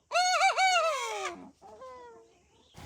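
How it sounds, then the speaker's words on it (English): A recovering rooster crows a loud, close, wavering cock-a-doodle-doo, then gives a weaker, trailing second call. "That is Lincoln learning how to cock-a-doodle-doo again"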